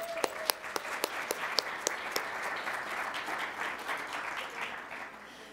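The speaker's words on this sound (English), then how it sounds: "Let's give a big round of applause to the talented musicians who performed for us as we came in" Audience applause honoring a high school string ensemble at a school event, a steady wash of clapping with a few sharp nearby claps standing out early, then settling into an even, moderately loud patter.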